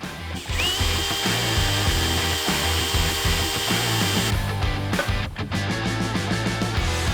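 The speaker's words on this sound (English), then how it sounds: "because we drilled a hole in the top" A power drill bores a hole into the top of a metal gate hinge, a steady, loud motor whine running close up for several seconds, then a few short clanks and a slowing spin-down.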